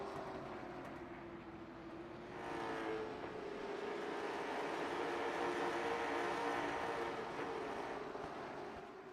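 Late model stock cars racing at Langley Speedway in the iRacing simulator, engines droning in a steady, loud pack roar that swells slightly as the cars circulate together.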